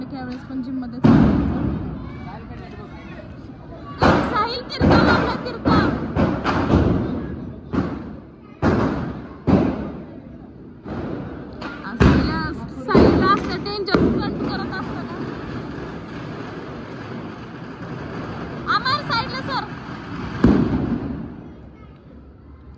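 Firecrackers set off inside a gym burst in loud, booming bangs, some single and some in rapid clusters, echoing over a steady background, with voices around them.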